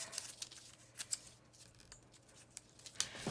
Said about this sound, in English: And I'm just going to cut